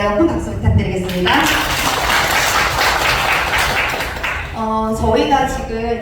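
An audience applauds a Seoul presenter's company, Hustle Play, with loud, dense, steady clapping for several seconds, framed by speech at the start and end.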